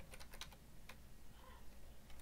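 Quiet, uneven keystrokes on a computer keyboard, a few scattered taps and short bursts of typing, faint and close with soft background noise.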